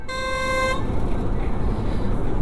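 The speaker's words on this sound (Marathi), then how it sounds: "मागून जे हे मारतात ना हॉर्न मला इतका राग येतो" A single short car horn blast sounds up close from behind on a bad road during a night motorbike ride, then gives way to a steady rumble of road and engine noise.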